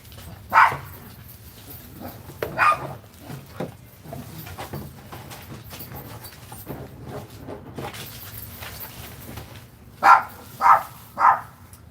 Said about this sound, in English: they don't really care if the dogs bark at us all the time